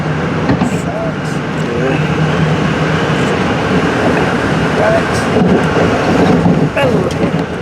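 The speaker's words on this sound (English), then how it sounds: "Oh, there's another train." A Metro-North commuter train rumbles past while riding in the cab of another train, a steady, loud roar of wheels and motors with faint rattles throughout.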